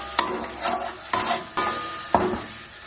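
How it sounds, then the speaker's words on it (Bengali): A spice paste of chilli powder, ginger-cumin paste and melted tomato with a splash of water is stirred and fried in a pan, giving four distinct scraping strokes over a close, steady sizzle. "দিয়ে ভালো করে মশলাটা কষিয়ে নেব।"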